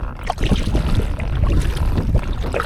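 A kayak being paddled around a pond on a lightly windy day, with soft water swishes and drips from paddle strokes close by, alongside wind buffeting the microphone.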